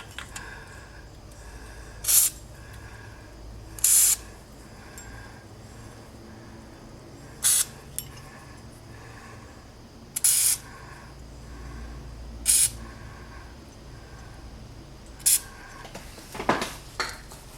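Short hissing bursts of lithium grease spray hit the parking brake parts of a Porsche 928, about seven separate squirts spaced a couple of seconds apart, close and fairly sharp against a low background hum.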